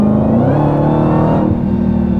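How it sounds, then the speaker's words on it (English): A supercharged Dodge Demon 170 V8 under acceleration, a loud, close, continuous engine roar with rising harmonic tones and a steady supercharger whine layered on top, no talk over it. "So the supercharger on this thing is much louder."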